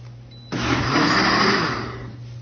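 A blender switches on abruptly and whirs loudly for about two seconds, pureeing habanero pepper hot sauce with a teaspoon of xanthan gum, then begins to ease off.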